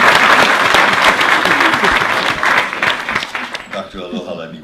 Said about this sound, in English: But you can clap for each one.